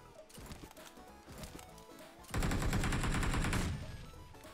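Gunfire in the battle royale game PUBG: scattered single shots at first, then a loud sustained burst of rapid automatic fire that fades away.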